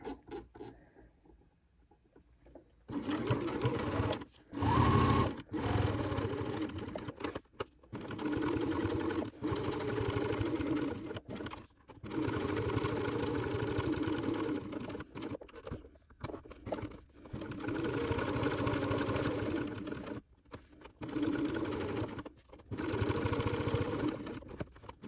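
A sewing machine stitching the seam of a crossbody bag, running in rapid mechanical bursts of several seconds separated by short pauses, close and fairly quiet.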